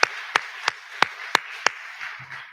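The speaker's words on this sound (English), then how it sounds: "So give yourself a round of applause." At a school district PTA meeting, a handful of sharp, isolated claps ring out at an even, slow pace, about six in a row, close and loud, over a faint room murmur before trailing off.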